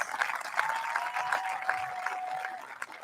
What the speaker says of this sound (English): An absolute round of applause.